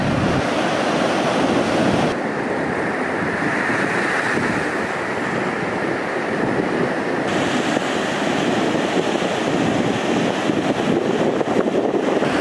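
Steady roar of surf washing onto a shore, continuous and fairly loud, with some wind buffeting the microphone.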